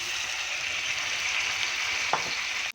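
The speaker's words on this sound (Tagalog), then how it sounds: "Ayan na, lagay na natin yung baka." Beef pieces hitting a hot pan of onions for beef steak, a loud continuous close sizzle with one sharp clink near the end before it cuts off abruptly.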